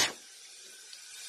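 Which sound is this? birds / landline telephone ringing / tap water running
tap water running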